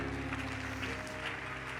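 A Spanish-speaking church congregation claps for the Lord in a short, muffled burst. Sustained musical tones play underneath the clapping.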